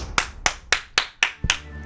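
Audience clapping at a comedy podcast taping: six crisp, close hand claps in a quick, evenly paced rhythm, with no talking.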